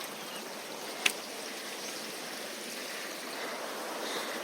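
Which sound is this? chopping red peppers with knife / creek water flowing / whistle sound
creek water flowing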